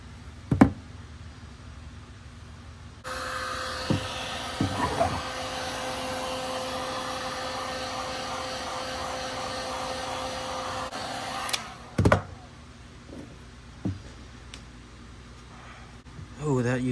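A heat gun blows hot air onto boat hoses with a steady loud whooshing roar for several seconds, framed by scattered knocks and taps and some talk before and after.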